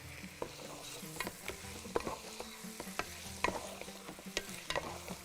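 Meat and onions for a Bahraini saloonat laham stew are stirred in a pot, giving a soft sizzle with intermittent scraping and clinks from a spoon against the pot, fairly quiet and close.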